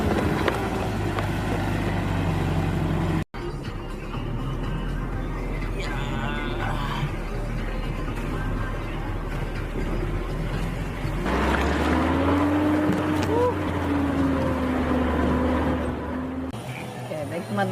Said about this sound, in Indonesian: ini kapal kita yang akan menyeberangkan kita dari pinggir sini ke pinggir sana